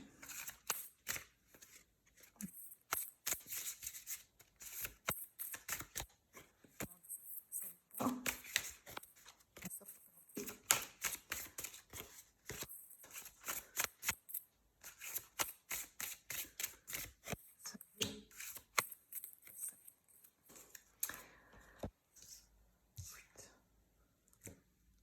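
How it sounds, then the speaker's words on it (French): Tarot cards are shuffled and drawn for a monthly horoscope reading, giving a long run of soft riffling, flicking and snapping card sounds, close and quiet, with occasional faint murmured talk. "Ok, je vais prendre 3 cartes de plus."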